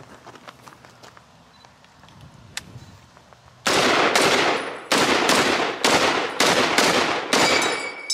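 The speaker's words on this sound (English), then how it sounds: "Get that close up on him getting Garand Sound." An M1 Garand rifle fires a quick string of loud, close shots, about seven sharp cracks spaced roughly half a second apart after several seconds of quiet outdoor ambience.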